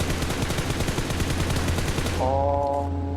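Rapid automatic gunfire from the PUBG video game rattles loud and close in a fast burst for about two seconds, then cuts to a brief electronic tone.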